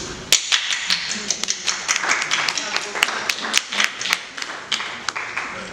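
Scattered applause in a television studio, irregular sharp claps from a small group running under continuous talk.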